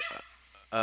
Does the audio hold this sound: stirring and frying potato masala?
no